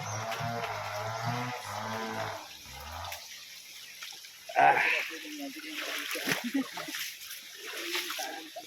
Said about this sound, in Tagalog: Pangalawang sapa na nadaanan natin